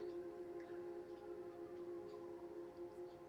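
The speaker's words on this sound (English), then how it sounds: "There are sirens coming off now. I'm hearing sirens." Sirens wail steadily in the distance, a sustained tonal drone holding through the whole stretch at a low, even level with no voices.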